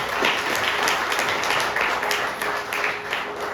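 A church congregation bursts into applause, a steady wash of many hands clapping with scattered louder claps, moderately loud and sustained through the short stretch, with faint voices mixed in.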